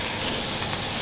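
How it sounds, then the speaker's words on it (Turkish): Bread frying in fat over a charcoal fire gives a steady, close, loud sizzling hiss that fills the short moment without a break. "kızartıyoruz ekmeklerimizi şöyle güzelce. Kömür ateşinde olması ayrı bir lezzet katıyor."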